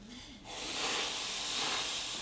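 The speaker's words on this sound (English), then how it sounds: "And then adding a ladle of batter." Sourdough pancake batter is ladled into a hot oiled pan. After a brief quiet moment it sets off a sudden, sustained sizzling hiss that stays loud to the end.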